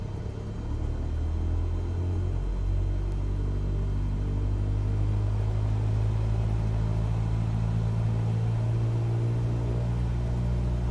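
A small plane's engine runs up to about 1,800 RPM during a pre-flight check in Microsoft Flight Simulator 2020, a steady, loud, droning rumble that holds for the whole stretch, with no speech.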